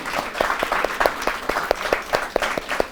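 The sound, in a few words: audience applause for the alumni guests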